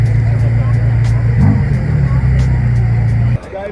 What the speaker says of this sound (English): And then look at this thing that just pulled in, Ferrari F40.